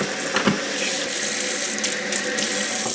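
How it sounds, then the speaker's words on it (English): Cool tap water pours steadily into a kitchen sink, a continuous close rushing splash that lasts the whole time with no voices. "I'll fill this up with cool water so I can wash my salad produce"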